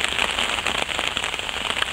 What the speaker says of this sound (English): the way this rain's coming down the day